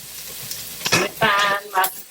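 Onions sauté in olive oil in a pan, giving a close sizzle that rises in short bursts as they are stirred.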